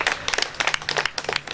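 A short burst of audience applause at a church gathering, scattered hands clapping in uneven, close bursts with brief gaps.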